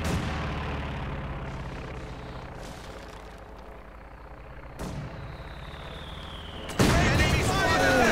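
Company of Heroes 2 battle audio carries rumbling explosions and crackling bursts of Maxim machine-gun and artillery fire, with a sharp loud blast near the end.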